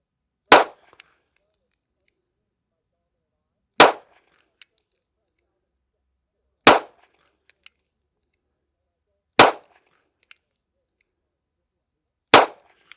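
Five sharp gunshots fired one at a time from a gun fitted with a GPO Spectra reflex red-dot sight, evenly spaced about three seconds apart, loud and close, each with a short decay and faint clinks between.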